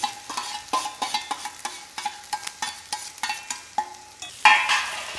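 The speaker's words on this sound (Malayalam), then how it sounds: "നമ്മുടെ ഫ്രൈ ചെയ്ത് വെച്ച ബീഫ് ഇതിലേക്ക് ചേർക്കാം." Fried beef for beef 65 stirred into browned garlic and sizzling in coconut oil in a pan, with steady rhythmic spatula scrapes and clatters over a constant close sizzle and a louder knock near the end.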